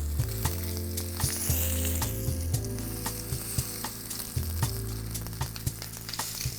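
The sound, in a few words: steak searing in a heavy cast iron pan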